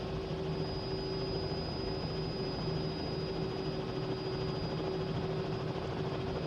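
Helicopter engine and rotor in a flight simulator game, a steady droning hum with a constant whine, unchanging and moderately quiet throughout.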